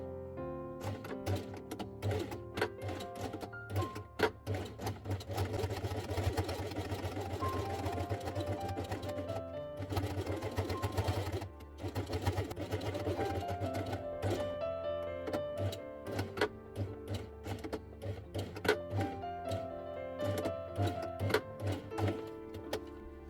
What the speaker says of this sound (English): At the beginning and at the end of the sewing, start sewing forwards, then backwards and repeat this 3 times.